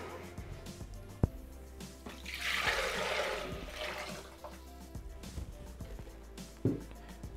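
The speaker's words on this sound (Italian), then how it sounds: "versiamo l'acqua" Water is poured into the unwashed Thermomix (Bimby) jug of a pesto-making kitchen appliance, a moderate rushing splash that swells for a couple of seconds mid-clip, then settles into quiet kitchen clatter.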